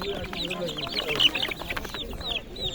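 Chickens and chicks at an old open-air market cluck and cheep in quick bursts close by, mixed with the bustle and voices of people talking around them.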